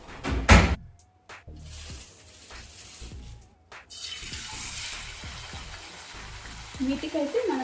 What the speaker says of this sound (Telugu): మంట హై టు మీడియం ఫ్లేమ్ మీద పెట్టి వేయించుకోవాలి.